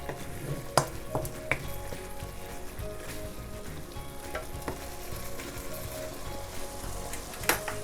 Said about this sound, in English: So quickly stir fry it, make the egg absorb the juice from tomato.